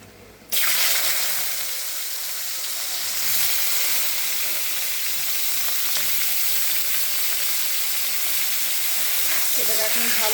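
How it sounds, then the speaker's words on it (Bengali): Sliced ridge gourd fries in hot oil after tempering, a loud steady sizzle that starts suddenly and holds, with scraping stirs through the pan and no talk. "এটাকে এখন ভালো করে নাড়াচাড়া করে আমি অল্প একটু ভেজে নিই"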